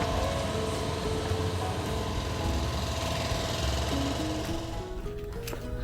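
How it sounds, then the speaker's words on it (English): A power tool grinds and sands body filler on a 1961 VW Beetle ragtop, giving a continuous loud whirring drone whose pitch shifts and steps upward near the end as it winds down. "I'm just grinding it up and sanding it down."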